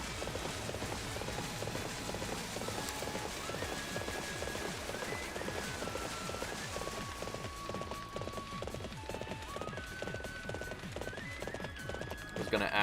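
A horse gallops in the Warriors Orochi 3 Ultimate Definitive Edition video game, its rapid clip-clop hoofbeats driving steadily throughout beside game music, with a person talking over it.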